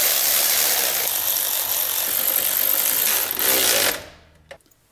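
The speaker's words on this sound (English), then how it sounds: "I can go ahead and finish bolting everything up" A ratchet tightens bolts on a carburetor scoop, making a loud, continuous, fast buzzing whir close by for about four seconds that cuts off abruptly, followed by a couple of faint clicks.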